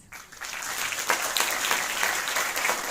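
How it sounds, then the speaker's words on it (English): Audience applause at a global SciTech youth forum, rising quickly from quiet into a dense, sustained clapping from a large crowd that continues evenly. "Let's give everyone a big round of applause"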